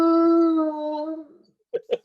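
A dog holds a long howl on command that trails off and fades, followed by a brief pause and then a person speaking nearby.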